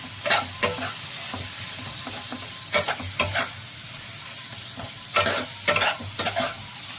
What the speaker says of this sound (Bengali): আমি চিকেনটা পেস্ট করা চিকেনটা দিয়ে দিলাম। ভালো করে মিক্স করে দিলাম।